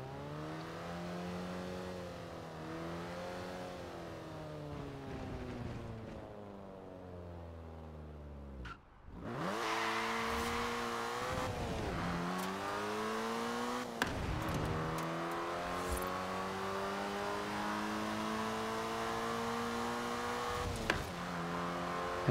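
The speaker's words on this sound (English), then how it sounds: "I'm at the drag strip, so we're gonna test the car's acceleration here." The Harry Potter car in Forza Horizon 4 accelerates hard down a drag strip, its engine revving high through repeated gear shifts with rising and falling pitch sweeps and sharp exhaust pops between changes, loud and continuous.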